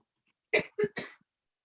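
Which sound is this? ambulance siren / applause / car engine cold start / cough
cough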